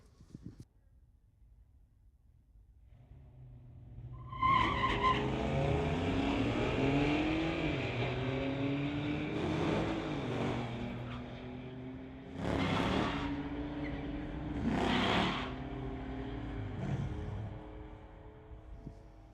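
A GMC truck and a 1990 Ford drag race at a street-legal event, heard as rising engine roar and repeated revving surges with gear-change breaks, loud and fairly close, after a quiet lead-in.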